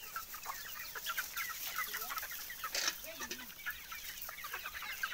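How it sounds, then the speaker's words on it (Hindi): Desi free-range chickens cluck and chatter in a busy scattered chorus on a poultry farm, soft and somewhat distant, with faint background noise. "देखिए दोस्तों मुर्गियाँ भी प्यासी हैं"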